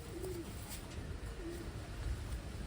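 Pigeons give soft, low coos, two short calls spaced about a second apart, close by and fairly quiet over a faint background hum.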